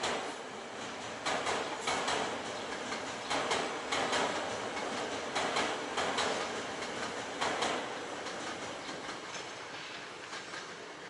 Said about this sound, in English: a four-car SEPTA train goes to Trenton